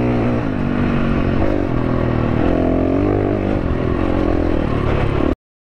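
A 2022 KTM 350 EXC-F dual sport motorcycle is ridden with a loud, steady engine drone throughout, its pitch rising and falling with throttle changes before cutting off abruptly near the end.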